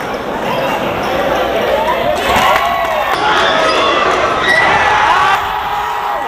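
Loud crowd noise swells and roars through a high school basketball game in Cheltenham, a steady wall of cheering and shouting with voices mixed in and occasional ball bounces underneath.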